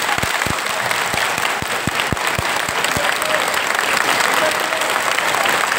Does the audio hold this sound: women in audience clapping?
yes